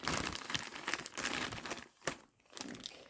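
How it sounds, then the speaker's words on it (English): A large plastic mailing bag being cut open, giving close, loud crinkling and tearing plastic rustles in bursts with a short pause near the end. "This one is a big bag. Let's just cut into it."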